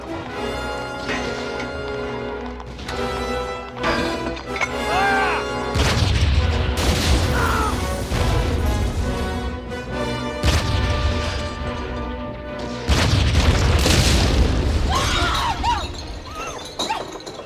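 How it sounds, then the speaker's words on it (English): Wartime artillery fire and explosions in a battle scene from a period drama, repeated loud booming crashes and shattering blasts over a continuous din, with shouting voices mixed in. "They'll never hold out against artillery."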